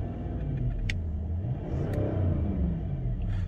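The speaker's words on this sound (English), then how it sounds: "I'll very quickly give the engine a rev just so you can hear it." A 2012 Range Rover Westminster L322 with the 4.4 TDV8 diesel is revved once, a close, rumbling swell that rises and falls back to idle over a few seconds.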